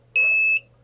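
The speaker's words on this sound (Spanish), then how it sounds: "Desconectamos la varilla como si se hubiera apagado la flama y inmediatamente sonó la alarma" A burner control unit sounds its flame-failure alarm, giving a loud, steady electronic beep of about half a second, with the start of another beep at the very end.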